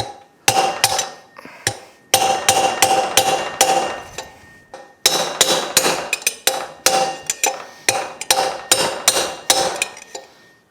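Hammer blows on a steel rod drive a rear wheel bearing out of a Suzuki GSX-R 1000 wheel, a loud close series of sharp metallic strikes in quick bursts with brief pauses, no talking.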